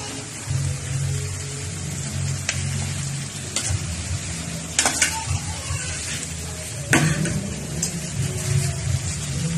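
Potatoes and carrots sizzle loudly in a hot pan for a chicken curry, with repeated scraping and clattering as a utensil stirs them.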